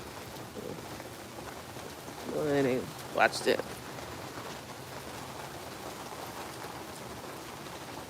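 Rain patters steadily and evenly on an outdoor surface throughout, a soft constant hiss with a few brief louder noises in the middle while a person talks briefly.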